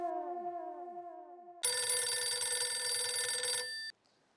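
A telephone rings in a domestic setting, first as a short warbling electronic tone, then a louder, bright continuous ring lasting about two seconds before cutting off abruptly, with no voices over it.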